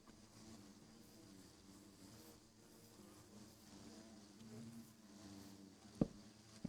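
A steady low insect drone comes from a swarm of bees in Minecraft, buzzing continuously and fairly faintly across the whole stretch, with a couple of sharp clicks near the end.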